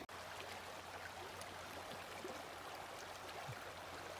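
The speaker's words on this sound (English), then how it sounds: "slow moving creek, but it's moving enough to make that little babbling noise" A slow-moving creek at a campground in Banff National Park along the Icefields Parkway babbles steadily in a soft, continuous wash, with no voices over it.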